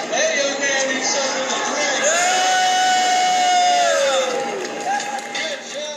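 A crowd cheers and whoops after a stage performance, loud sustained shouting and yelling voices swelling together, then easing slightly toward the end.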